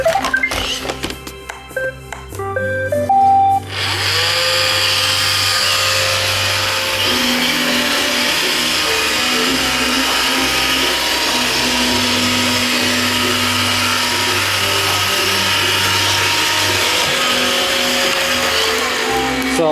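An iRobot Roomba 560 robot vacuum runs on a mix of carpet and hardwood floor, a loud steady whirring motor and brush drone that holds without pause after a brief rattling start.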